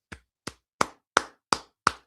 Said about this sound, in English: Can we clap it up for the Red Sox?